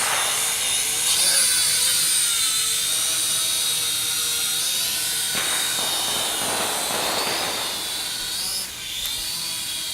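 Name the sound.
drone flying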